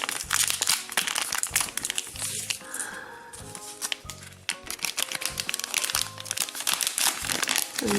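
A Transformers micro changer blind pack is torn open by hand, giving continuous crisp, close crinkling and crunching of foil plastic for several seconds, with occasional quieter pauses.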